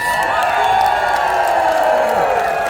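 A large outdoor crowd at the Song and Dance Festival flame event at Noblessner, Tallinn, cheers and whoops for a soloist, a loud, dense and sustained roar of many voices with no pauses.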